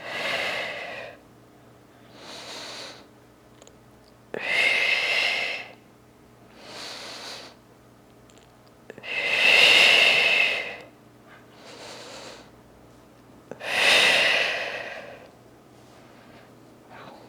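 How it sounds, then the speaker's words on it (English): Heavy, rhythmic breaths from someone doing a beginner upper-body and abs Pilates workout with a resistance band: long airy inhales and exhales in regular cycles, close and loud, with a few stronger forceful exhales. "Breathing through it."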